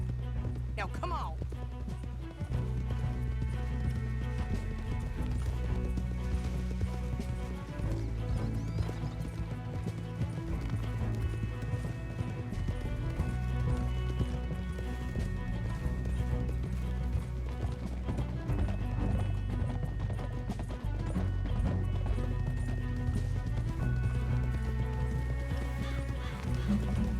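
Horses gallop in Red Dead Redemption 2, a continuous run of hoofbeats that lasts throughout under a dense layer of game music and ambience, with voices speaking now and then.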